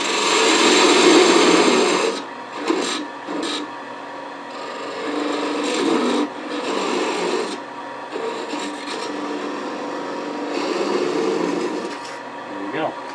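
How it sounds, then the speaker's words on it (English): A thin parting tool cuts into bubinga on a lathe, a loud scraping rasp that surges and breaks off in bursts over the spinning wood, with short pauses between passes. "Use a thin parting tool."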